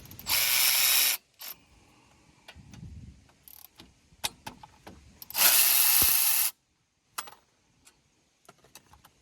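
A ratchet spins off the 14mm brake caliper bolts on a Hyundai Sonata in two loud, rapid clicking bursts, with sparse metallic taps and handling noises between them.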